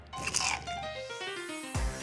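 A bite into crispy fried chicken thigh gives a short, sharp crunch up close, followed by a faint squeaky creak and then a low thump.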